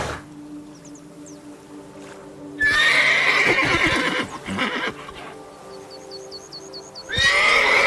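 A horse in the Witcher 3 video game neighs loudly and whinnies again near the end, with a clatter of hooves in between and game music underneath; nobody speaks.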